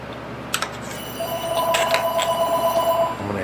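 A telephone rings in a machine shop during spark plug machining work, a steady electronic ringing tone repeating for a few seconds over a low shop hum, with no talk.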